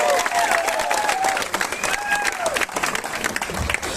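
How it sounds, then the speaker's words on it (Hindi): Loud audience applause welcoming a speaker at a session, a dense roar of clapping with some cheering, continuous across the whole stretch, with occasional voices mixed in. "जोरदार तालियों से स्वागत करें सर का"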